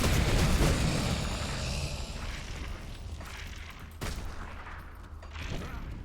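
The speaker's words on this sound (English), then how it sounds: "I was getting hit by a machine gun over there." Dense volleys of gunfire and booms in the action game Grim Dawn, a loud continuous barrage that thins out over a few seconds, with sharp cracks standing out near the middle and end.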